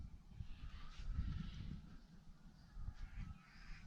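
Sulphur-crested cockatoos call with harsh, raspy screeches in rural bushland by a paddock during a nearby bushfire, several cries rising over a steady rumbling background.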